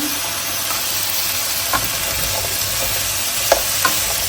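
Fried fish heads sizzle and spatter steadily in a pan of cauliflower curry with green chilies, a close and constant hiss broken by a few sharp pops.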